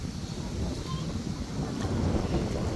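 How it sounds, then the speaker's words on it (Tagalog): Strong wind buffeting close to the microphone at a riverside campsite, a continuous rough roar with gusts, mixed with faint water noise in the background. "Grabe yung hangin, ha."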